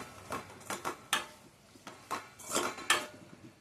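Chopped tomatoes being stirred in a pan on medium flame for an okra curry, giving a series of soft utensil clinks and scrapes against the metal pan, spaced irregularly and fairly quiet, with no talking.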